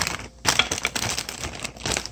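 The crumpled plastic wrapper of an Ottogi bukeoguk ramen multipack is handled up close, giving busy, crackling crinkles in short irregular bursts.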